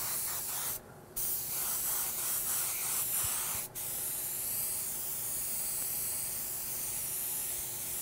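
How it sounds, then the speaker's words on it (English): Compressed air sprays steadily onto a freshly applied black cherry candy paint coat to dry it, a loud continuous hiss broken by a short pause near the start and a brief dip a few seconds later. "And I'm just spraying air on it to dry it,"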